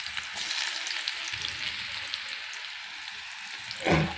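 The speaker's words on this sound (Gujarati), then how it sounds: "तो हवे अमे वघार करी रह्या छीए डूंगळीनो। आमां नाखीशुं डूंगळी।" Chopped onion sizzles steadily in hot oil for a Gujarati tempering, a close, continuous crackle with a brief louder burst near the end, as onion and salt go into a summer spiny-gourd vegetable dish.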